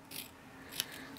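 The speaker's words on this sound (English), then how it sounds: "I'm going to use my scissors" Scissors cut designer paper for a card with a couple of short, quiet snips. The sound is close against a soft background hiss.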